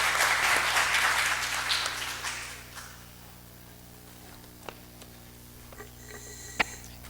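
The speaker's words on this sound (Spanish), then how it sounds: "pedirles a todos, en primer lugar, un aplauso a ellos por ese entusiasmo de venir a esta hora a compartir con nosotros" A congress audience at an international arbitration conference breaks into applause that rings loud for about two seconds, then fades out, leaving a quiet room with low hum and a few isolated knocks and rustles.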